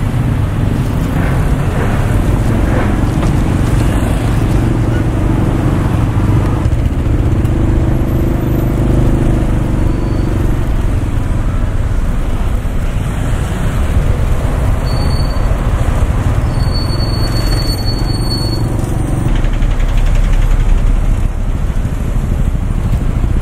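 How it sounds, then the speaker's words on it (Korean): Steady road rumble and wind buffeting from a moving motorcycle taxi in Bangkok, continuous low roar with traffic noise throughout, no talking. "오토바이 택시를 타고 이제 돌아왔습니다"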